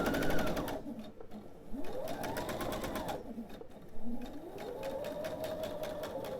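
Sewing machine stitching back over a pieced quilt table topper, running in close steady bursts with short pauses, fairly near and clear.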